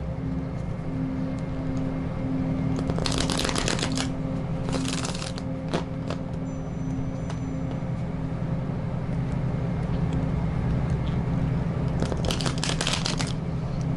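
Tarot cards being shuffled in short rustling, riffling bursts, three or four spread across the stretch, over a steady low hum and background noise with no talking.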